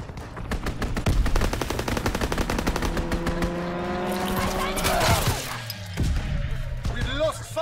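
A strafing run in the WWII shooter Call of Duty WWII: rapid machine-gun bursts rattle in dense rhythmic volleys, joined by a rising aircraft drone and scattered battlefield clatter, with game voices talking over it.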